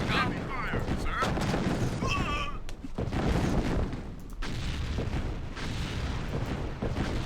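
Heavy gunfire and artillery blasts from the real-time strategy game Command & Conquer: Tiberian Sun crackle and boom continuously, dense battle noise throughout with a brief radio-style voice in the middle.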